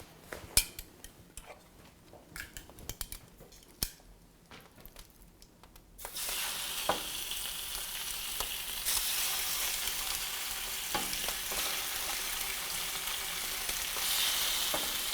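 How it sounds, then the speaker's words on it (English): After a few utensil clinks and taps, chicken hits a hot pan with olive oil and a loud, steady sizzle takes over, swelling slightly as it continues. "And that's what you want to hear, is that nice sizzle."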